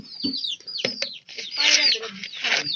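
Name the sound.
chicks and hens clucking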